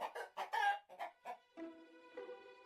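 A cartoon golden hen clucks in a short series of quick clucks, then gives two longer drawn-out calls, close and clear.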